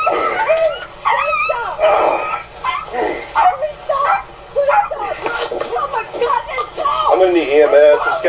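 Loud, close dog yelping, whimpering and barking at an animal-bite scene, continuous and agitated, with a person speaking over it.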